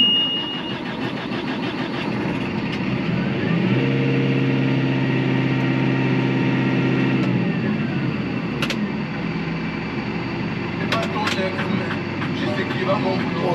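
A tractor engine that has stalled runs a steady mid-pitched rumble and labours under strain, with a few sharp clicks and knocks near the end, while a person speaks over it.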